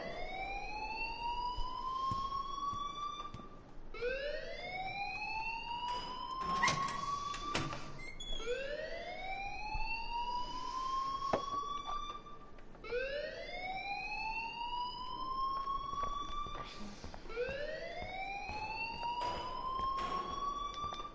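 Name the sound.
alarm ringing in the video game Life is Strange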